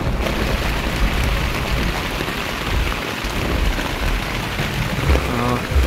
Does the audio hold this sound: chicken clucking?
no